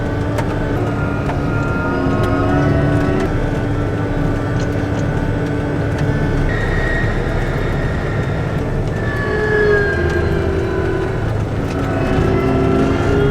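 A combine harvester rumbles along a narrow road during a fall harvest in Ohio. Its steady, loud engine drone carries continuous low mechanical whine and rattle that rise and fall slightly, with no talking.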